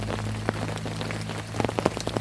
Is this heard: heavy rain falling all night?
yes